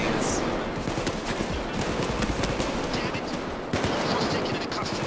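Rapid automatic gunfire in the heist shooter Payday 2, with dense overlapping bursts of shots that keep going throughout, loud and close, while a player's voice sounds faintly underneath.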